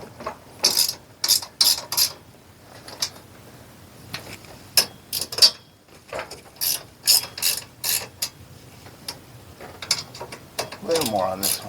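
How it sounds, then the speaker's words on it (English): Hand ratchet loosens two bolts on a Brunswick GSX bowling pinsetter, giving repeated quick clicking bursts in irregular groups, close and moderately loud, with no voices. "Going to loosen these 2 bolts."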